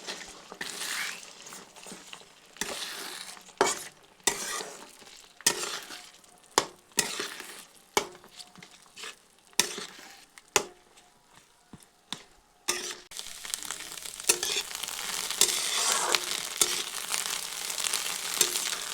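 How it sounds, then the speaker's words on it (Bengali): Four salted eggs are scrambled and fried in a pan, with repeated sharp scrapes and taps of a spatula over a steady sizzle that grows louder toward the end. "দিয়ে এই 4টি ডিমকে গুঁড়ো করে ভেজে নিচ্ছি"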